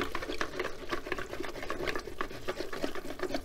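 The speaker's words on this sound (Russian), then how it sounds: "наш венчик, опускаем его в ведро с водой и начинаем перемешивать, болтать нашу воду, кружить ее" A whisk swirls and churns water in a bucket before plaster is mixed in, a steady faint sloshing and stirring with continuous rapid rhythmic agitation and no pauses.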